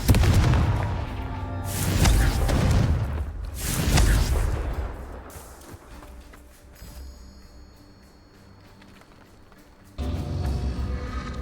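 Confringo fire-blast spell explosions in the Hogwarts Legacy video game, loud booming bursts in the first seconds that fade out, followed by quieter game sound and another surge near the end.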